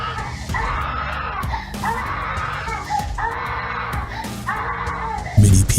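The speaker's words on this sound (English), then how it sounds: "starts screaming hysterically." A young child screams hysterically on a baby monitor, repeated long wails in rhythmic bursts over a noisy background, ending with a loud thump.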